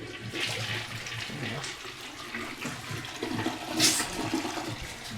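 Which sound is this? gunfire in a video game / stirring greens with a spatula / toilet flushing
toilet flushing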